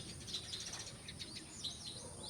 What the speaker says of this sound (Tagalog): at ngayon po ay rinig mo yung mga huni ng mga ibon